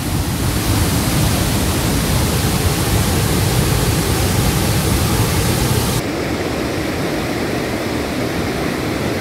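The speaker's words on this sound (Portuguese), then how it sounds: "Cachoeira do Prata" Cachoeira do Prata, a waterfall in Juscemeira, Mato Grosso, roars as a loud, dense, unbroken rush of falling water, steady throughout and close by.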